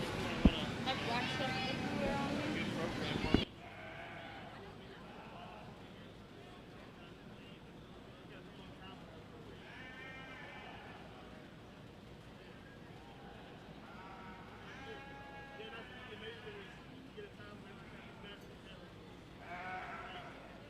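Sheep bleat repeatedly at a county fair sheep and goat show, short wavering calls rising above a crowded arena hum, with a louder burst of noise at the start and a public-address voice announcing classes in the background.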